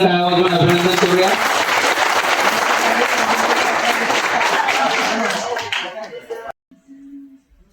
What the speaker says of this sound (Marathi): तर सुशांत करंडे यांचं आपण सगळेजण टाळ्या वाजवून अभिनंदन करूया.